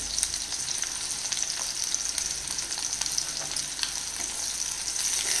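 Garlic and green chilies fry in hot oil, a continuous, close crackling sizzle with bright spattering pops and no voices.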